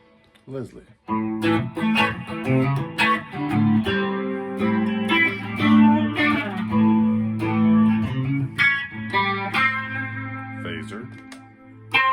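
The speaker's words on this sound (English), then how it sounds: "Leslie." Musical instrument tones run through a Leslie rotating speaker effect, sustained chords and notes swirling with a warbling, wavering shimmer, steady and fairly loud for about twelve seconds, with no talking.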